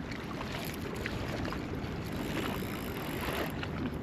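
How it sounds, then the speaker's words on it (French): Choppy waves slosh and wash around a fishing kayak on open water in late March without its electric motor, a steady, dense rushing that fills the whole clip, with wind mixed in and no talking. "Il y a beaucoup de vagues."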